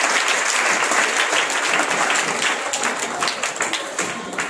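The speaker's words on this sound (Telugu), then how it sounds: "చక్కగా ఒప్పుకున్నాడు, క్లాప్స్ ఇవ్వండి అతనికి." About 265 schoolchildren gathered at a high school session clapping together for a classmate, a loud, continuous patter of many small hands, slightly uneven, with no talk over it.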